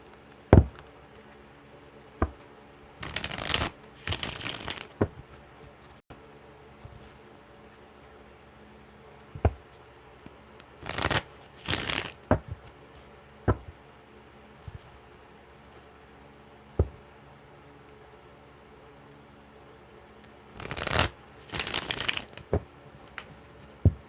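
Shuffling a deck of playing cards, several brief bursts of riffling and rapid flutter separated by longer quiet gaps with scattered light taps and knocks, close and fairly faint.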